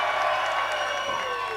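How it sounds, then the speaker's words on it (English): A crowd cheers and roars at a live fight event, a dense steady wash of voices and shouting with some clapping, loud and continuous throughout. "There's the crowd."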